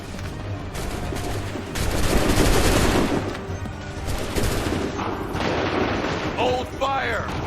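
Musket volleys crack out in a battle in the video game Assassin's Creed III, dense bursts of gunfire layered with crowd noise and shouting, a loud swell midway and horse whinnies near the end.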